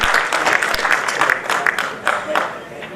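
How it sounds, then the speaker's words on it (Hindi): Applause from an audience at an all-India mushaira poetry recital, a broad wash of clapping over about three seconds with a spoken voice carrying over it. "नदीम शाद आपकी तालियों के बीच में है"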